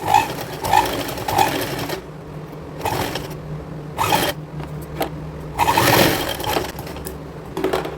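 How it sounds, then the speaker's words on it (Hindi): A sewing machine stitches the side seams of a girls' cord set, running in several short bursts of whirring, rapid needle chatter separated by brief pauses. "अब हम इसको उल्टे साइड से साइड में सिलाई लगा लेंगे।"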